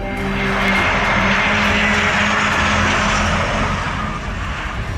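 A Boeing Business Jet 2 VIP airliner roars loudly and steadily with broadband jet engine noise, holding a sustained rush without voices throughout.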